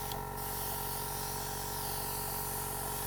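A steady, continuous airbrush hiss sprays onto a cake without pause, close and even, with a faint mechanical hum underneath.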